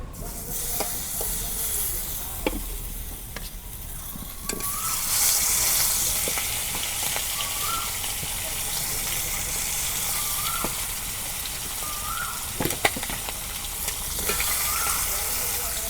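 Rupchanda fish and eggplant fry in hot oil in a pan, making a loud, constant close sizzle and hiss with occasional sharp clatters of stirring, while faint chirping sounds recur in the background.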